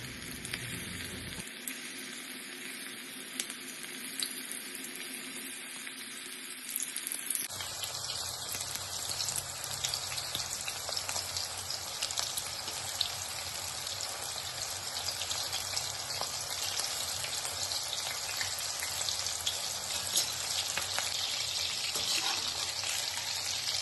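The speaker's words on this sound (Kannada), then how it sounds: "ಇವಾಗ ಎಣ್ಣೆ ಬಿಸಿ ಆಗ್ಯದ ಚಿಕನ್ನ ಒಂದೊಂದಾಗಿ ಬಜ್ಜಿ ಥರ ಬಿಟ್ಕೋಬೇಕು" Chicken pieces dropped one by one into plenty of hot oil in a kadai for restaurant-style chilli chicken, with a quiet hiss at first, then a sudden burst into continuous bubbling, spattering deep-fry sizzle.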